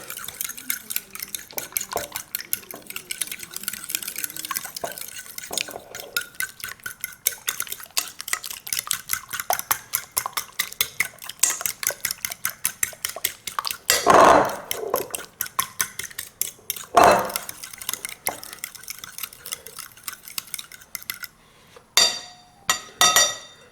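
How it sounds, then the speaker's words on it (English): Eggs are whisked into keto brownie batter in a bowl with rapid, steady rhythmic clicking and scraping at close range, paused by a couple of louder knocks against the bowl's rim before the whisking slows near the end. "I'm going to whisk those eggs in"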